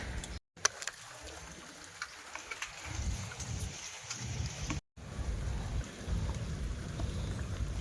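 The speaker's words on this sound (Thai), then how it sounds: "แต่ฝนมันตกอยู่นะ" Rain pours down steadily at an outdoor fishing spot, a broad continuous hiss with low rumbling undertones, broken by two brief dropouts, and no voices over it.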